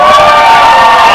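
A happy-hour summit audience breaks into loud, close cheering, whoops and shouts over a dense crowd roar that stays at full strength the whole time.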